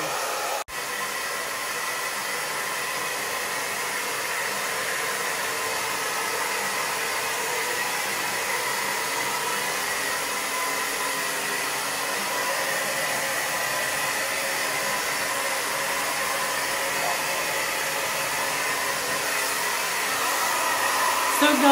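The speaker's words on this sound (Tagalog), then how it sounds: "Ayan guys, patutuyuin ko muna itong buhok ko." A hair dryer blows steadily while drying hair, a loud continuous broadband whoosh heard close for the whole stretch, rising slightly near the end.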